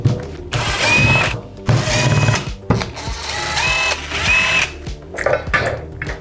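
A power driver backs screws out of the FEP frame on a Jupiter resin vat, in several whirring bursts with rising motor whines and ratcheting clicks, close and fairly loud with short pauses between.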